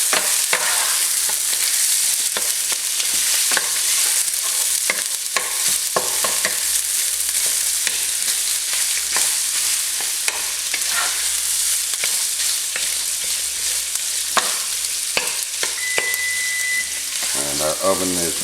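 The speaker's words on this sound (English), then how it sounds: "Stir and break this up a little bit." Chili meat sizzles and fries in a hot pan while a spoon stirs and breaks it up, giving a constant close crackle broken by repeated scraping and tapping strokes.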